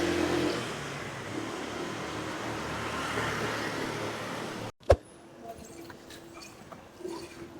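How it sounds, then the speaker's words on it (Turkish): A car moves slowly through a pedestrian street in Barcelona, its broadband engine and tyre noise close and steady among street bustle, then cut off by a sharp knock before quieter street sounds follow. "Araba sen ne geziyorsun burada?"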